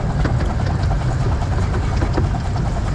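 A train drawing into a station gives a loud, steady low rumble with clattering texture and faint rhythmic knocks, continuous throughout.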